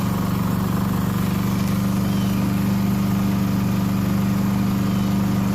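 A Champion 3400-watt dual fuel inverter generator runs with a loud, steady, continuous engine drone at an even pitch. It sounds close, with no voices.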